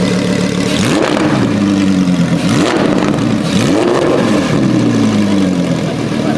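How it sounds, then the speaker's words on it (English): A V10 car engine with a catback exhaust revs several times over a steady idle, each loud blip rising and falling away in a deep, close exhaust roar. "rev it just a little bit"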